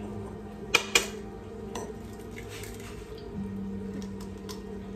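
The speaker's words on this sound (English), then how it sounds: "Next, we're going to crack 2 eggs." Two eggs cracked against a bowl rim for acorn bread batter, two sharp close knocks in quick succession followed by quiet kitchen handling and faint background hum.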